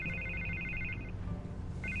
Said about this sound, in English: Can't get the phone to stop ringing.